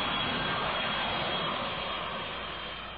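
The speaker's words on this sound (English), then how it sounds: "watch what happens when a Burnelli model UB-14 cartwheels on takeoff and slams into the ground sideways at 130 miles per hour" A Burnelli UB-14 airplane's engines roar loudly on takeoff, a broad continuous rushing drone that slowly fades over a few seconds.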